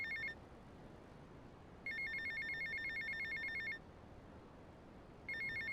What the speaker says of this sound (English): And while this phone call's ringing,